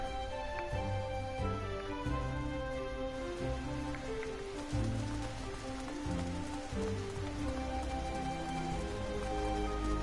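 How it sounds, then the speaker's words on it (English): Rain falling in the Final Fantasy XIV online game, a steady even patter that runs the whole time under layered game music, with no talking. "Okay, seems that it's raining."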